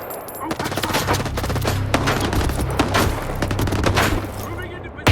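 Automatic weapons fire rattles through a STALKER 2 firefight, dense overlapping bursts and booming shots rolling continuously with short gaps, loud and close, while voices briefly sound over the shooting.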